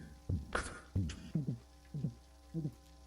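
Heartbeat sound in the horror survival game Subterrain: Mines of Titan, a deep, muffled double thump repeating about five times at a steady pulse over a low hum, with a brief higher sound early on.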